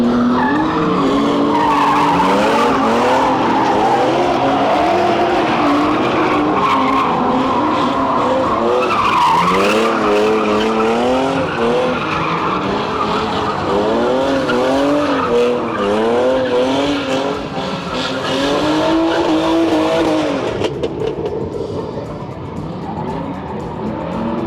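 At the Flatout Power Festival 2021 car show in Poland, several cars drift together. Their tires screech loudly and continuously for the whole stretch while engines rev and wail in rising and falling sweeps, with no talking.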